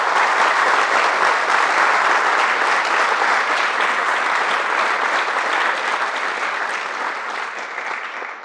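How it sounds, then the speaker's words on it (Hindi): Students and audience at a school career counseling seminar clap for a speaker in a long, steady burst of dense applause that fades slightly toward the end. "तो पहले तो एक बार तालियां होनी चाहिए सर के लिए।"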